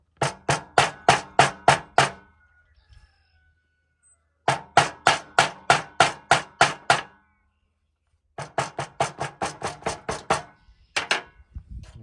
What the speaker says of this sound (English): we can use our ball peen end to find where the mounting bolts are